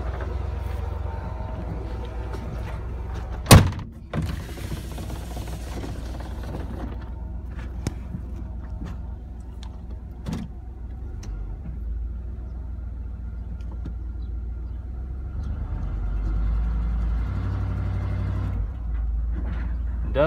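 A 1996 Ford F-350 pickup with a 7.5L 460 V8, sitting unused for two years, idles low and steady while creeping forward, with a sharp clunk early on and a few knocks as it moves.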